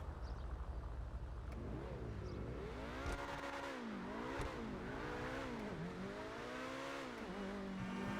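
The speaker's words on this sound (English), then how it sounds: "It's almost become a tradition to finish by driving the car up the coast road at sunset" Obey 10F sports car, modeled on the Audi R8, driving along a coast road in GTA, its engine loud and close with rising and falling revs as it accelerates and shifts, alone without talk.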